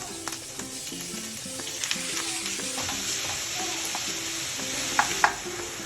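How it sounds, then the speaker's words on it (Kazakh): Ground beef frying in oil in a hot pan gives a steady, close sizzle throughout, broken by light clicks and scrapes of stirring. "Қызып тұрған табаққа майды құйып, тартылған сиыр етін қуырып аламыз."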